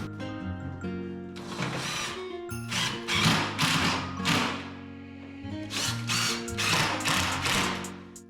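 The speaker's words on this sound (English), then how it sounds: "Putting screws in." Screws driven into a Larson 80 Tradewinds EZ Hang storm door with a power driver, heard as several whirring, ratcheting bursts separated by short pauses, close and fairly loud.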